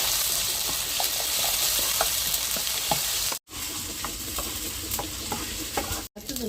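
Ginger-garlic paste sizzles and fries in a pan while being stirred, with scraping clicks from the spoon throughout and two brief silent breaks. The cooking is for a fish tamarind curry.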